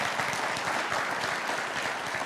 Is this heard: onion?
no